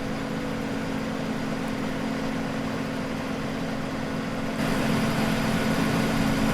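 A steady, low tractor engine drone from the video game Farming Simulator 17 hums continuously, its idle rumble growing slightly louder and fuller near the end, with no voices.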